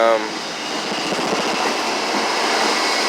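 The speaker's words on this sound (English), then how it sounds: "commuter rail that comes by here quite often" A Boston commuter rail train near Washington and Norwell Street rolls past close by, a loud, steady rumble with rattling wheels that fills the whole stretch without a break.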